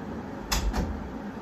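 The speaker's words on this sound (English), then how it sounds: "Let me close the door." An indoor door is pulled shut, a soft double thud close by against a low room hum, brief and muted.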